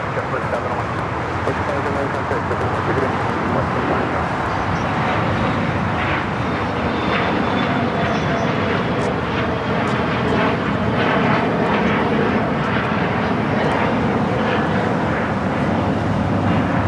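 A Delta heavy jet airliner rolls down runway 25 at LAX. Its engines make a loud, sustained roar, with faint voices underneath.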